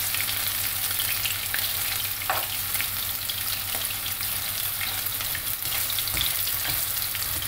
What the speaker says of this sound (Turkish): Şimdi patlıcan köftelerim arkalı önlü kızaracak güzelce ve hazır olmuş olacak.